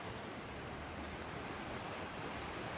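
Lake Huron surf where the Saugeen River enters the lake near Southampton, a steady wash of waves with no distinct breaks, faint and even, with some wind.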